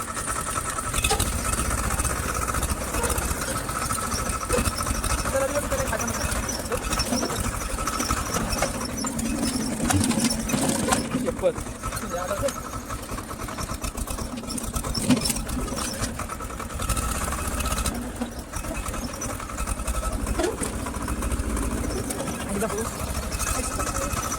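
A low, steady tractor engine rumble runs throughout, loud and close, with rattling mechanical noise and a voice talking over it at times.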